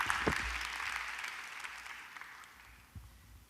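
Church congregation applauding at a Korean revival service, dense broadband clapping that swells then gradually thins and fades over a few seconds, with no voices on top.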